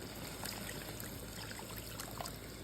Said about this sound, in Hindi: अब इसके अंदर हम ऐड कर देंगे पानी